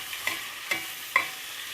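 Carrots, onion and pepper frying in a pot as they are stirred, three distinct scraping stir strokes about half a second apart over a quiet sizzle, close by with no talk.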